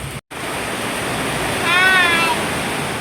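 Heavy rain pours down in a loud, dense, steady roar, with a brief dropout near the start and a short meow-like voice rising over it partway through.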